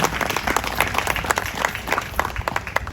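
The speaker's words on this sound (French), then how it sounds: "Merci d'applaudir le vice-président du parti, s'il vous plaît." Crowd at a party event applauds the vice-president in dense, continuous clapping that stays loud and even for the whole span, with no voices over it.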